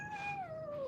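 A cat meows once, a single drawn-out, gently falling cry that sounds close and clear, with no talking over it.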